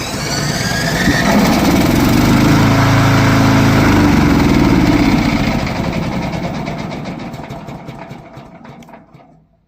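VTLM800 remote-controlled crawler brush mower's engine runs loud and close, a steady buzzing drone that holds for several seconds before tapering off and cutting out.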